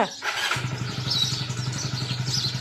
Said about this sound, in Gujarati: મોટરસાયકલ ચાલુ કરી નાખ્યું